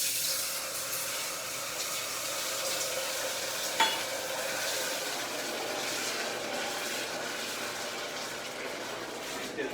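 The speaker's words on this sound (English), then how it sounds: "get that boiling" Water and sugar, a cup of each, heating toward a boil in a pan while making syrup for French toast; a steady, even hiss and simmer fills the clip with one small clink near the middle.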